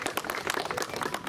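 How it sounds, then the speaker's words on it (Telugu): A group of people clapping their hands together, a quick run of overlapping claps heard fairly near for just over a second. "చప్పట్లు కొట్టు బ్రదర్స్"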